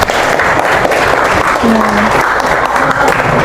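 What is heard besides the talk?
audience applause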